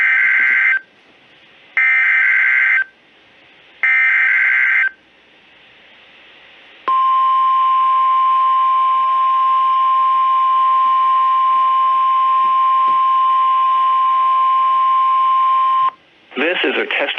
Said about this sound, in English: This is a test of the NOAA Weather Radio's warning alarm device